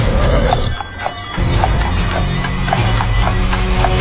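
Galloping hooves of a headless horseman's horse, a fast, loud, steady clip-clop rhythm close by, heard alone without talk.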